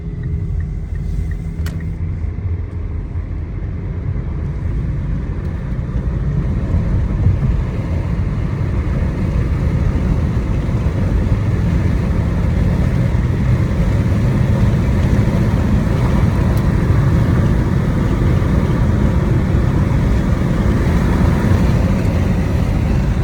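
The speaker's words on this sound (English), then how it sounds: "Sorry about the road noise." A steady low rumble of tires and engine fills the cabin of a moving 2015 Mitsubishi Outlander, constant and loud for the whole stretch, with no talking.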